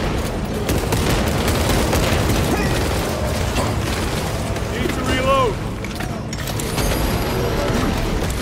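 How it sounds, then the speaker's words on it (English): A frag grenade bursts in Warhammer 40,000: Space Marine 2 during the Carnifex boss fight, its boom lost among continuous gunfire and dense battle noise, with voices calling out over the din. "Frag grenade out."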